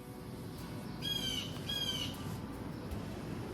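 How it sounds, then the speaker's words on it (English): Outdoors in summer, a bird gives two harsh raspy squawking calls while chasing a cicada, heard at moderate distance over a low background rumble. "there goes a cicada and a bird chasing it"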